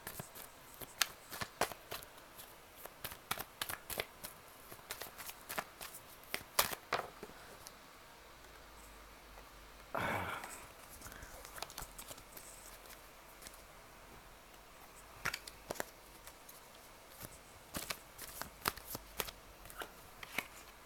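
Tarot cards are shuffled close up in rapid riffling bursts, pausing briefly for a soft rustle before the crisp card flicks resume.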